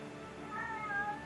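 A deaf house cat meows indoors with a sustained, wavering tonal cry in the middle of a second-long stretch, fairly close and alone over low room noise.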